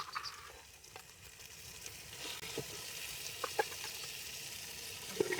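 Spices sizzle and crackle in a hot pan, a soft steady hiss dotted with small pops and stirring scrapes, fairly quiet and close.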